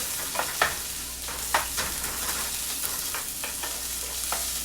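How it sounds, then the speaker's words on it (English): Spam sizzles as it fries in a pan, a steady crackling hiss with frequent sharp pops and some stirring clatter, heard close up with no talking. "Okay, so the Spam will just cook."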